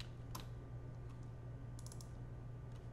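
Soft keystrokes on a computer keyboard tap a few times in a quiet room, faint and sparse over a low steady hum.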